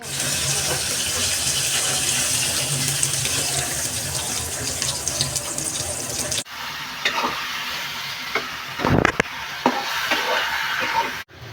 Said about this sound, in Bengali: ইলিশ মাছটা ধুয়ে নিচ্ছি